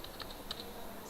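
Computer keyboard being tapped while entering an SQL select statement, a few faint, close, quick keystrokes over about a second.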